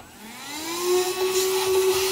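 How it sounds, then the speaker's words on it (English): VacLife VL106 handheld vacuum cleaner motor spinning up from a low whine to a steady high-pitched hum, close and loud, running alone without talk. "vacuum the floors and all that"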